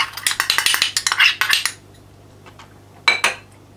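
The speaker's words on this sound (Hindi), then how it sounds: "पहले हम चीज़ें इसमें ऐड कर रहे हैं, दैट्स शुगर इन देयर" Almonds and sugar poured into a pan for a honey almond tart, a quick run of hard rattling clinks for nearly two seconds, a lull, then a brief second rattle, close and crisp.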